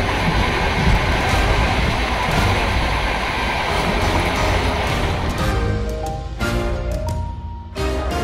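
A train rolls through the desert toward Bikaner, a loud continuous rumble and rattle of carriages that thins slightly near the end, with no talk.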